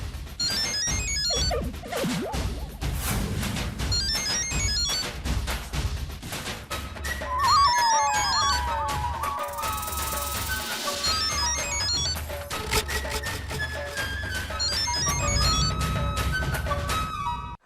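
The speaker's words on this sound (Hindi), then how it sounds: "उसके मोबाइल पे लगाता हूँ। अभी ये रिंग सुने तो अच्छा है" A mobile phone ringtone plays in a Hindi TV comedy scene, a long, loud, busy electronic melody that repeats its phrases over steady rhythmic beats, with no talk over it.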